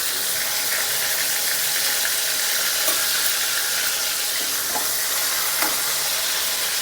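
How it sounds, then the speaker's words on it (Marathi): Steady, dense sizzling of spices with asafoetida and green chilli frying in hot oil for tempering, continuous and close, with a few faint stirring clicks and no voices. "आता फोडणी आपण चांगली भाजून घेऊया"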